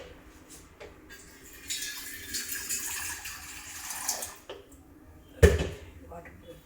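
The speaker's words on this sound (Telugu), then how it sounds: "ఇక్కడ వాటర్ పోసుకుందాం." Water poured from a tap or jug into a cooking pot on a stove, a rushing splash that builds for a few seconds and then stops, followed by a sharp knock of the pot.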